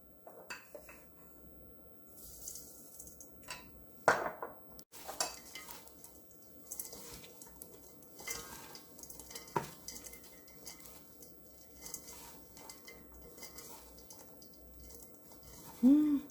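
Chive kimchi being mixed and tossed by hand in a bowl with fish sauce and red pepper flakes, giving quiet, intermittent rustling and wet squishing with occasional clinks, close and faint.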